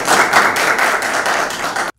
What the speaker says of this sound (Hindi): आपकी बहुत सारी तालियों में रफ़ीक आजज़ साहब।